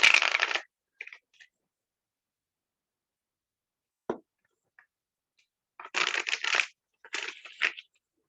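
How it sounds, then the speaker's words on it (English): A deck of cards shuffled by hand before cards are pulled for a reading: a short riffling burst at the start, then two more near the end, with a few faint taps in the quiet gaps between. "I'm going to shuffle these cards real quick."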